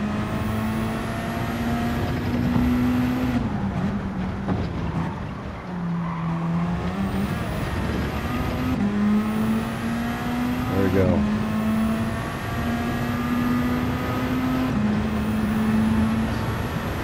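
Race cars in a video game, a Subaru WRX among them, roar past at full throttle with rising and falling engine pitch through gear shifts and a few tire squeals. Engine noise runs continuously, and a voice talks over it.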